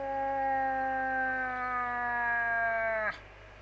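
An elk call lure from a hunting video game gives one long, drawn-out tonal wail that holds steady for about three seconds and then cuts off abruptly, loud and alone.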